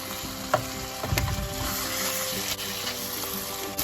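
Bitter melon and onions hit a hot pan, a close steady frying sizzle with a few clinks and scrapes of stirring early on, no voices.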